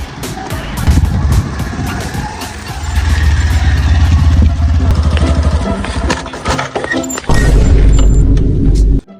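A car engine struggles and fails to keep running, cranking and revving in rough uneven bursts that cut out, loud and close, with people talking over it in a Bengali comedy sketch.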